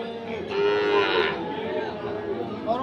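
A bull at the Ambari cattle market in Dinajpur lets out one long, loud, close moo, with faint crowd chatter in the background.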